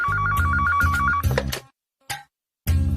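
A telephone rings with a rapid electronic warbling trill in two close bursts, then breaks off into silence, one short chirp, and more silence before a loud clatter resumes; no one speaks.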